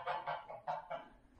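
A goose honks nearby on a farm, five loud nasal calls arriving in an uneven burst with short gaps between them and nothing else heard underneath.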